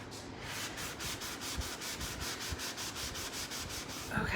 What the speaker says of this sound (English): This is so much easier with my electric sander, you guys.